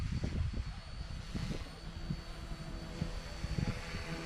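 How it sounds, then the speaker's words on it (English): Eachine E160 RC helicopter in flight, a continuous whirring rotor buzz with a rough, choppy low rumble that rises and falls slightly as it moves. "Really nice flying helicopter."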